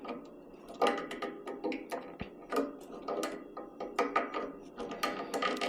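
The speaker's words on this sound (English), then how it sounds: "I'll take our pliers that we used to get it off" Pliers tightening a screw-on part of a pressure washer, producing close, irregular clicking and scraping metal sounds in short uneven bursts.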